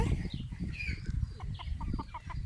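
Chickens clucking close by, a run of short repeated clucks and chattering calls over a low background rustle.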